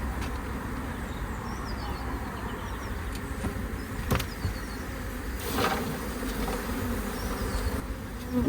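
A five-year-old honey bee colony is being relocated, and the dense buzzing of many bees hums up close with no break. A few louder buzzes swell as single bees pass near, and there is no talk.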